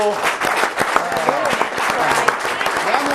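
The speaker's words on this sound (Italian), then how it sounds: "un applauso allora ai moto" Audience applause at a motorcycling federation event, a short burst of scattered clapping with a voice speaking over it.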